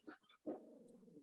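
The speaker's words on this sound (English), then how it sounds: "Oh, I hear a dog." A dog growls and whines faintly nearby, with a short yelp followed by a drawn-out low moan, and no talking.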